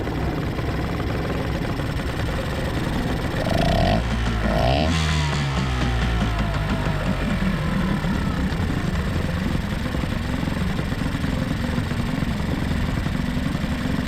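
A 1986 Mariner 5HP outboard motor runs and idles with a steady, close mechanical drone and a rough, uneven rattle, briefly rising in pitch before settling back.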